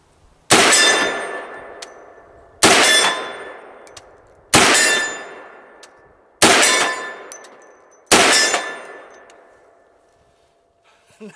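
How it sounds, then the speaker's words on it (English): Five loud metallic clangs from a solid brass 458 SOCOM round striking a steel target, evenly spaced about two seconds apart, each ringing out and fading before the next. "Let's see what the 300 grain solid brass round sounds like from the 458 SOCOM"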